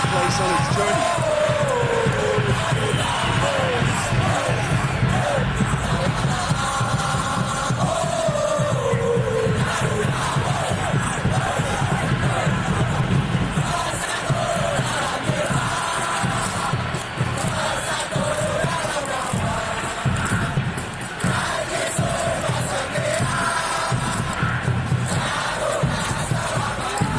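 Football video game crowd from a PES match, Japan U-17 versus Indonesia U-17, roars and claps continuously and loudly throughout, a dense stadium wash with surging cheers while a commentator talks over it.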